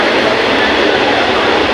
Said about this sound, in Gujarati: ટ્રેન જાય છે